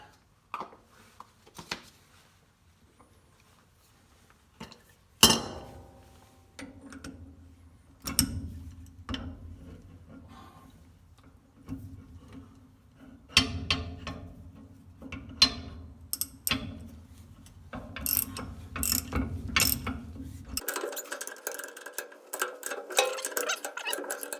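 A hand ratchet cranks bolts on slasher mower blades, giving a string of sharp metallic ticks in bursts of uneven rhythm, close and clear, ending in a rougher grinding stretch.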